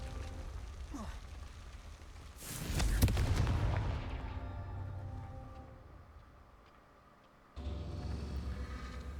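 A Confringo fire-blast spell bursts in Hogwarts Legacy with a loud, crackling explosion that fades over a couple of seconds, followed by quieter game ambience and then a renewed steady background.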